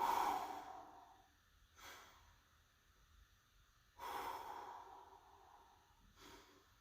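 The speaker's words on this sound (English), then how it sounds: "And we're breathing." Slow, audible breaths during a squat stretch in a group exercise class, three or four separate airy exhales and inhales spaced a couple of seconds apart, close and fairly soft with no talking.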